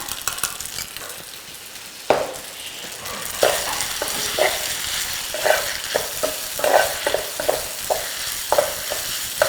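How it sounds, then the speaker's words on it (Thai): Spaghetti with sausage and spring onion is stir-fried in a pan, producing a steady sizzle with repeated rhythmic scraping and tossing strokes of a spatula, close and fairly loud. "ผัดไปสักระยะหนึ่ง พอทุกอย่างสุกเข้ากันดีแล้ว ตามด้วยต้นหอมนะคะ"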